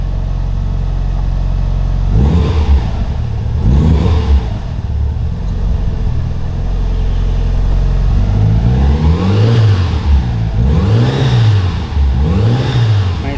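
A Mitsubishi Lancer Evo 4 fitted with a full exhaust revs repeatedly while cold, the engine note rising and falling in several sharp blips over a steady idle rumble, loud and close.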